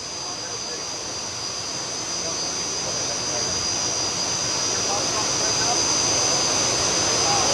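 A modified tractor at a county fair tractor pull in Barnesville, Minnesota roars as a loud, sustained engine howl with a high whine, swelling steadily louder and nearby throughout.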